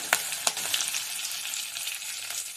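Curry leaves crackle into hot oil with garlic in a pan, opening with a couple of sharp spits and pops before settling into an even, close sizzle.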